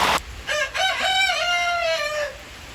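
A rooster crows once, loud and close, with a few clucks from a flock of chickens sheltering in their coop during heavy rain and thunderstorms.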